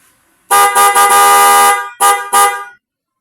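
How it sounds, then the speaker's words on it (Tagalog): A loud, harsh two-tone dual car horn, wired with a relay, blares in a long sustained blast, then gives two short honks, with silence before and after. "Busina."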